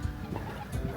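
Chickens cluck at a bird house in a village in Provence, short, close clucks in an uneven rhythm against faint background noise.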